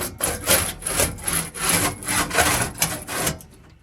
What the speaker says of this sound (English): I have to grind the welds from the backside.